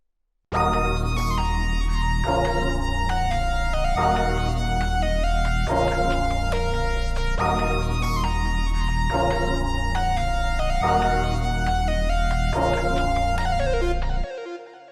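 Beat outro built around a delayed lead line run through Valhalla delay and reverb, a dense, loud looping pattern of repeating melodic phrases over a deep bass, ending with echoing tails fading out.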